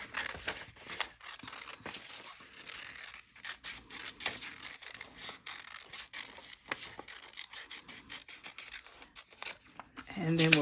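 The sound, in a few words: scissors cutting paper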